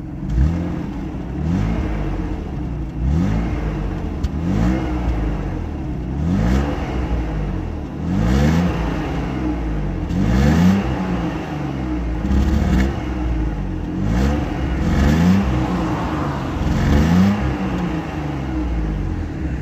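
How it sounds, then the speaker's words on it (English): A BMW E36 sedan's straight-six engine with a stock muffler drones smoothly from inside, revving up and shifting down again in regular waves, its tone muted and fairly quiet. "Six-cylinder cars usually have a great sound because this has a stock muffler."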